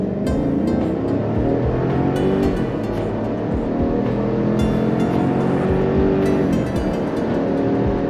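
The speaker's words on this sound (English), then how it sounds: "The transmission shifts, as you guys could probably hear and see there, it was pretty good, especially up a grade here in altitude" 2021 GMC Yukon Denali pulling hard up a grade at altitude, the engine drone rising steadily with short dips as the transmission shifts, loud and continuous from the cabin with no voices.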